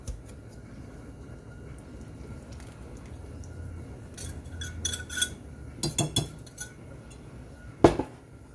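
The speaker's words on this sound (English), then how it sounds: "We're going to mix this into our dry ingredients." Fork stirring a wet mix of butter, egg and vanilla into dry ingredients in a bowl for toffee bars, with soft scraping and scattered clinks that grow busier toward the end, capped by one sharper knock.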